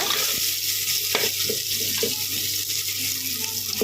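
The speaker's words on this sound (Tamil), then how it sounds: "நல்லா உப்பு சேர்த்துக்கிட்டேன். சீக்கிரம் வதங்கிடும்ல, அதனால் உப்பு சேர்த்துருக்கேன்." Mutton curry ingredients sautéed with salt in a pan, a steady close sizzle with occasional clicks and scrapes of stirring, no voices.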